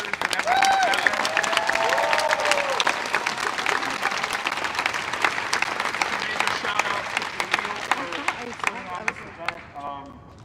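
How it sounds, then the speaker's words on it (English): Protest crowd in downtown Chicago applauding and cheering for a series of speakers, a dense wash of clapping with scattered shouts and voices mixed in, steady throughout and thinning slightly near the end. "Can we just continue to clap and give it up for all these speakers and everyone?"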